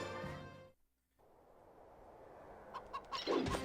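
Chickens in the battle animations of Fire Emblem: Radiant Dawn, a few short clucks near the end after a music cut and stretch of quiet game ambience.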